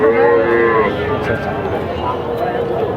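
Cattle at a busy cow market, local breeds and Sahiwal cows, with one loud, close moo opening and then fading into a noisy crowd; people talk throughout.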